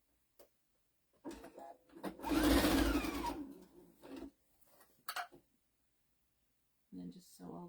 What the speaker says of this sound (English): then I'm going to sew all the way to the edge and then back it up.